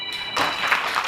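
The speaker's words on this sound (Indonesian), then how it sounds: "Tepuk tangan." Applause from a seminar audience in Aceh swells after a brief quiet start, a dense wash of clapping that stays fairly loud for about a second.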